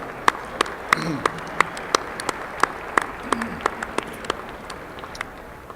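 Gala dinner audience applauding the food servers, a soft rush of crowd clapping with sharp, distinct nearby claps standing out at an uneven pace, and a voice briefly audible underneath.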